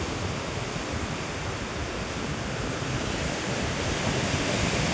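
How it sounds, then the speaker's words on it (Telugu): Sea waves surge onto the shore in a continuous, broad wash of noise with no clear breaks, heard at moderate distance and without voices. "చూడండి ఎట్లా ఉరుంతాయో అలలు"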